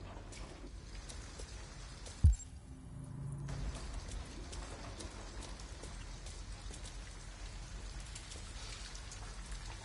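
Steady rain falling and pattering on surfaces in the video game Detroit: Become Human, a constant soft hiss with one low thud near the start, no talk.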